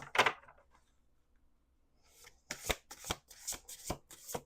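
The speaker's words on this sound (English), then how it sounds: "We're going to do one more shuffle." A deck of cards is riffled with a quick burst, then after a pause comes a run of rapid, crisp shuffling snaps close by.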